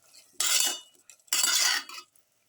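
A spoon stirs chicken and potato pieces in a pressure cooker pot, making two loud, close bursts of scraping and clattering with quiet pauses between them; no voices.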